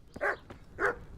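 A dog in Kingdom Come: Deliverance barks twice in quick succession, short sharp woofs at moderate distance with a brief pause between.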